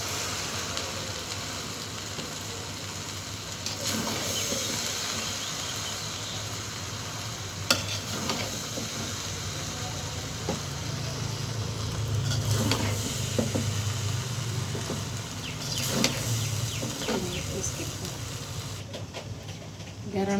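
Fried rice with pepper and a little sugar stirred and tossed in a hot pan, giving a steady close sizzle with repeated scraping and clinking strokes throughout.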